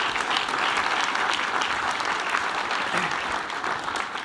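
Steady, dense applause from a large audience at a university fireside chat event, continuous clapping throughout with no talk over it.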